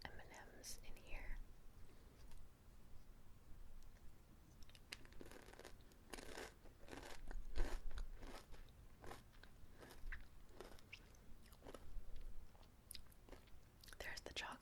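Close, crunchy chewing of reindeer chow made with pretzels and cereal, bursts of crisp bites and crackles between softer mouth sounds, with quiet whispered talk throughout.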